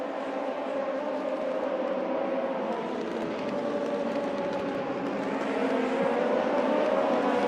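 Race cars in a sim racing game drone steadily on the circuit, a continuous engine hum with a slight rise in loudness toward the end, heard without commentary over it.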